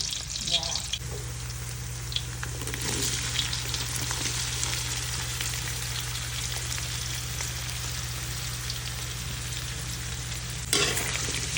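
Peeled ginger sautés in hot oil for papaitan, a steady close crackling sizzle with occasional stirring scrapes and a low background hum running throughout.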